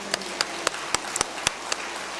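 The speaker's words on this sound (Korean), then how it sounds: "하나님께 영광의 박수를 드리고요" A few scattered claps ring out in a church congregation, sharp separate hand strikes at an uneven rhythm over a quiet room, with no talking.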